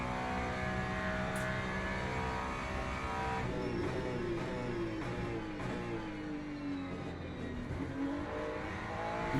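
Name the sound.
Italian supercar engine revving in a racing video game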